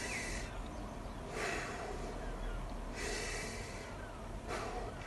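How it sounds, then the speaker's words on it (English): Slow, deep breaths drawn in and let out in a calm exercise, three or four soft airy swells spaced evenly over quiet background noise, close and faint. "nice big deep breath in and nice big deep breath out"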